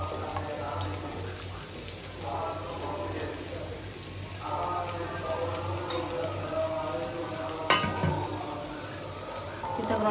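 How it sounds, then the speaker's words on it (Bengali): Bitter gourd sizzles as it fries in a small amount of oil in a Bengali home kitchen, a steady close crackle with occasional stirring scrapes and one sharp clink. "একদম অল্প তেলে ভাজি করছি।"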